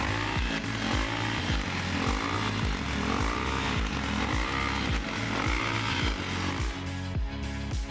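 A Ducati motorcycle engine revs repeatedly in quick, rhythmic bursts at a crowded rally, each rise and drop close and loud, with a crowded background hum.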